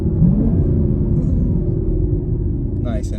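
A 2023 Chevrolet Camaro with the LT1 engine downshifts, its engine a loud, steady low rumble heard from inside the car, with a brief higher note near the end.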